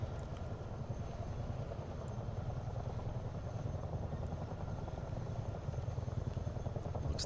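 A helicopter in the multiplayer flight game Microsoft Flight Simulator 2024 drones with steady rotor chop and turbine hum, moderately loud and unchanging throughout, with no talking.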